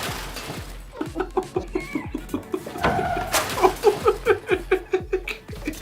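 Chickens clucking in repeated short, rhythmic bursts, fairly close and loud, with a brief scratchy clatter in the middle; part of a lively farm scene.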